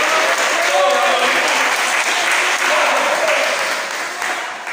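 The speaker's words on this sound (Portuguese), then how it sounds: "Você pode aplaudir ao Senhor, você pode exaltar a Deus esta noite." Sustained, dense applause from a large church congregation during a worship service, loud and steady, with voices faintly mixed in, tapering slightly toward the end.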